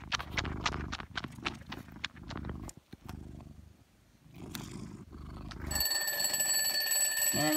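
An electronic alarm starts beeping with a steady high tone near the end, following a stretch of rustling, tapping and handling noises.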